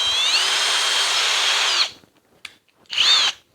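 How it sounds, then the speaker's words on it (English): A Kobalt 24V drill driver whirs up to speed and runs in a loud, steady high-pitched whine for nearly two seconds, stops, then gives one short second burst after a pause, close and with no talking. "You have a little more control when you're drilling."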